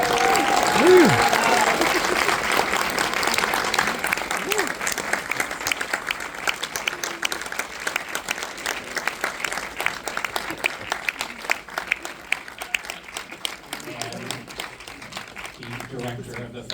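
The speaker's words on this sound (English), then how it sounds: "applause." Audience applause at a film screening conversation event, loud at first then thinning into scattered individual claps while voices and cheers come through.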